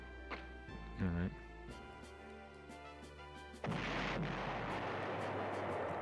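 Artillery fire from the PlayStation war game Panzer General: a couple of short game blasts early on, then a loud, sustained rumbling barrage from about midway that carries through to the end, mixed with game music.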